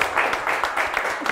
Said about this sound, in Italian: dobbiamo fare l'applauso. Ah, ci applaudiamo.